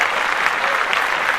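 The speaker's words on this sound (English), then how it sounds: "You clap that up." Podcast studio audience applauding steadily, a dense wash of clapping that holds at an even level throughout the short burst.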